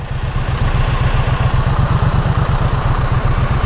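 A Triumph Street Twin parallel-twin motorcycle engine idles close by, a loud, steady and even low thumping pulse with a mechanical clatter on top.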